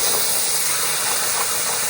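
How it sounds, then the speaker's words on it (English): Beef and vegetable pasta sauce bubbling in a pan, a steady loud hiss with a soft boiling simmer in place of a sharp sizzle, continuous and close. "It now sounds like boiling water more than it does a sizzle."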